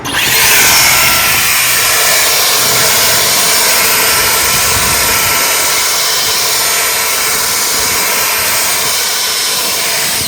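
Ego 650 cordless leaf blower fitted with a flat nozzle runs at a steady, loud, close whooshing roar for the full stretch, with no talk over it.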